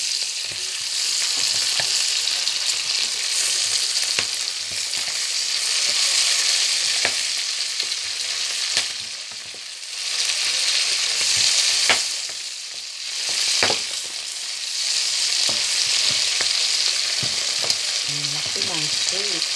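Shrimp frying in butter with browned garlic, a steady close sizzle with occasional stirring clinks and scrapes throughout, no talking.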